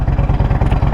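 An Indian Roadmaster Dark Horse motorcycle with a 116 Thunderstroke V-twin, fitted with stage 1 and stage 2 kits and a Lloyd's tune, idles loud and close in a deep, throaty, steady lumpy pulse, with no voices.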